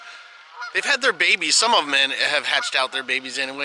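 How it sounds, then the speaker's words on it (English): Geese honk repeatedly on a pond nearby, loud and overlapping, while a person talks over the noisy calls. "you can hear the geese going off."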